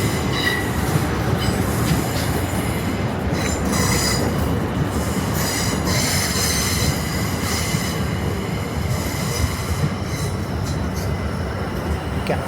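A train passing through Waterloo station in London, loud and continuous with dense rumbling, rolling wheel noise and metallic squeals from the wheels throughout.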